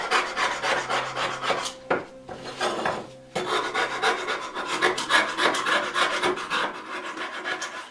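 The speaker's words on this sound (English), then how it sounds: "Scrape off the cap iron." A tool scrapes rust off the steel cap iron of a Union transitional hand plane in a workshop, making a steady, close, rasping back-and-forth scrubbing with one short pause partway through.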